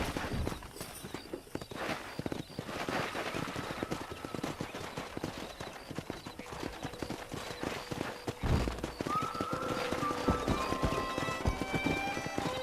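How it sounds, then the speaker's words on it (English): Horses clip-clop and gallop across the ground in Red Dead Redemption while the rider wrangles wild horses, with rapid hoofbeats throughout, a whinny near the end and a faint voice underneath. "Let's see if we can't wrangle some horses."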